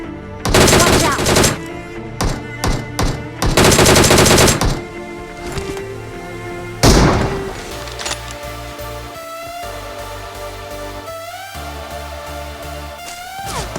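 An opponent fires a PP submachine gun in BGMI, the mobile battle-royale game, while the players loot a crate. Loud, rapid automatic bursts come in several volleys, then a single heavy shot, and then a steady bed of in-game sound and music.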